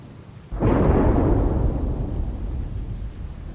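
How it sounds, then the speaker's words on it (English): A thunderclap from a storm in the Leisure Suit Larry video game breaks suddenly, then rolls into a long, loud, deep rumble that slowly fades, with no talking. "Your life is in danger because a storm is coming."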